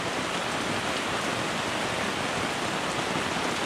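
Steady rain pouring straight down with no wind, a dense, even hiss that stays loud and unbroken throughout.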